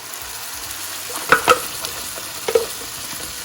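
Pureed tomatoes go into a hot pan with butter and sizzle steadily while a spoon stirs and scrapes a few times, close and clear, with no voices.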